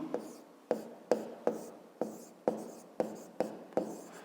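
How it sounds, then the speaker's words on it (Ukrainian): Writing on paper during a fifth-grade maths exercise, heard as about nine short scratchy strokes in a steady rhythm, close and quiet, with no talking. "Так, отже, записуємо тоді, що точка А"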